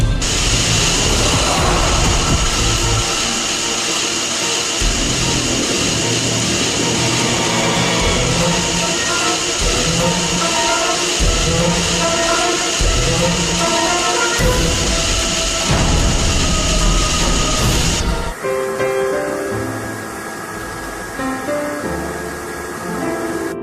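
A vacuum cleaner runs continuously over carpet, a loud, steady motor whine with a rumbling, pulsing low end as it is pushed back and forth, then the pitch drops and softens near the end.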